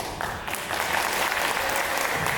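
An audience at a meeting claps hands, a dense steady wash of applause that swells slightly after the start and carries on at full level throughout.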